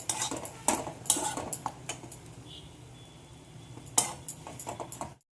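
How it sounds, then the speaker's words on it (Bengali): A utensil stirs an onion and poppy-seed paste in a pan to dry it out. It scrapes and clinks against the metal in irregular bursts, with quieter stretches of stirring between the louder knocks. "এবার নেড়ে নেড়ে এটাকে শুকিয়ে নেবো"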